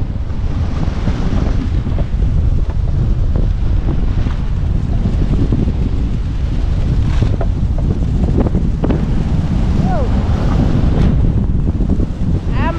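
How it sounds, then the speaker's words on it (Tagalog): Strong wind and crashing waves at sea during a storm roar continuously near the open boat, with heavy buffeting against the microphone and surging surf throughout. "Mas lalo lumakas ang hangin."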